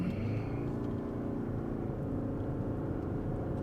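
2024 Lexus NX 350h hybrid luxury crossover accelerating out of a turn, a steady, dense engine and road drone heard from inside the cabin, holding constant and fairly loud throughout.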